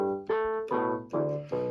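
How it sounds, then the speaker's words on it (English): A Yamaha PSS-380 keyboard on its trombone voice plays four sustained brassy notes in steady succession, each with a soft swell and slow fade, loud and close with no talking. "20, that will now be a trombone."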